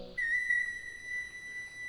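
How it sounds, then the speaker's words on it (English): A short, creepy Majora's Mask dance tune plays inside World of Warcraft as a character dances, a thin whistle-like synth melody holding steady over faint background, moderately quiet and without talk. "We're playing our creepy little dance music from Majora's Mask."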